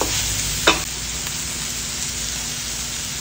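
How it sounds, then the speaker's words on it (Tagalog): Sautéed bitter gourd with leftover fried fish sizzles steadily in a pan. Near the start there is one quick scrape of a stirring utensil, then the frying hiss carries on evenly and close. "luto na ang ating ginisang ampalaya with leftover na isda"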